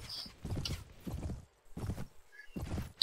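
Galloping horses in the Mount and Blade: Warband video game give four quick bursts of thudding hoofbeats in an even rhythm, fairly close and moderately loud, with brief faint game sounds in between.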